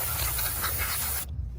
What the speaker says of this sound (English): Go ahead and get this sprayed off.